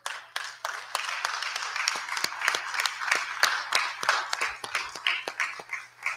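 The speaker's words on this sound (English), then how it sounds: "can you clap with me right now?" Congregation at a Baptist church in Detroit claps together in a steady rhythmic beat, the sharp individual claps fairly quiet and evenly spaced throughout.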